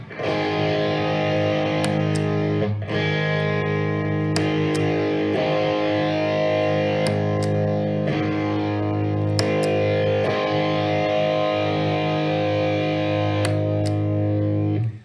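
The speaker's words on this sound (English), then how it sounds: "and then switching the Tube Screamer in." An electric guitar through a Rock Stuff RS808 Tube Screamer clone overdrive pedal chugs a gritty riff with palm-muted chords and brief pauses, loud and close, with crunchy distortion throughout.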